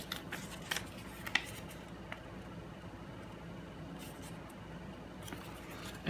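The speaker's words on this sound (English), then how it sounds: "I need to get a new blade for my Fiskars cutter" Fiskars paper cutter slicing through paper sheets for small planner inserts, a few quiet, brief swipes and clicks over a low background hum, with no talking.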